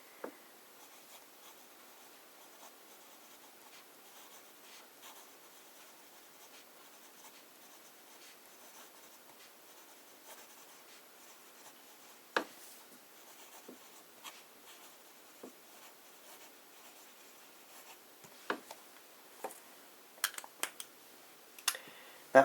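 A broad-nib fountain pen writing in Diamine Oxblood ink, heard as soft, quiet scratching across paper with a few sharper ticks near the end, close and alone.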